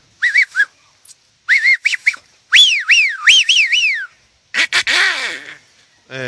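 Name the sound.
hunter imitating a bird call (zeiha)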